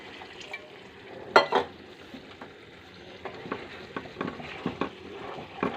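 Water goes into frying masala for a dhaba-style egg tarka, setting off a steady sizzle with sharp spatters and the clink of stirring, close and fairly loud.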